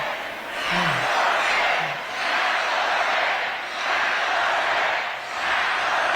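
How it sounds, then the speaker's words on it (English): A rally crowd of New York supporters of Mamdani chants "tax the rich" in a steady, loud rhythmic wave that swells and dips every second or so, a dense mass of voices filling the air without any single speaker. "Tax the rich is the chant."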